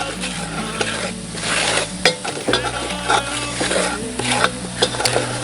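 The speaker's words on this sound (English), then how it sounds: "Go ahead and put that flour in there. Start browning that flour off." Flour browns in a couple tablespoons of oil in the bottom of a Dutch oven, a loud continuous sizzle with frequent scraping stir strokes against the pot, no voices.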